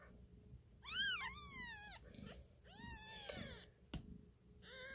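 Tiny day-old kittens mew in high, rising cries, several overlapping calls close to the microphone, with soft rustling and handling noise between them.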